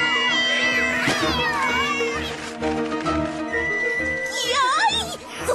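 Cartoon cats yowl and caterwaul in a wavering, high-pitched chorus over busy background music, loud and close throughout.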